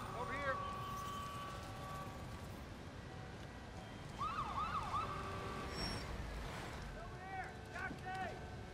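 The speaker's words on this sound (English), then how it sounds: "Ambulance is here." Ambulance siren in the Marvel's Spider-Man video game, a wailing up-and-down siren that comes and goes at moderate distance over a busy street ambience, with a voice speaking in the background.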